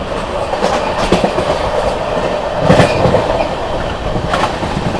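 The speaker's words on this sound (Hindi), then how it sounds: "यहाँ पर विंध्याचल रेलवे स्टेशन को स्किप कर दिया अपनी विक्रमशिला एक्सप्रेस ने।" The Vikramshila Express, train 12368 from Anand Vihar to Bhagalpur, runs through Vindhyachal station without stopping, its wheels giving a loud steady rumble with periodic clacks over rail joints.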